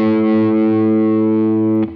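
A distorted electric guitar note is bent up a half tone in a rock style, ringing loud and sustained with rich overtones before being cut off abruptly near the end, with no talking.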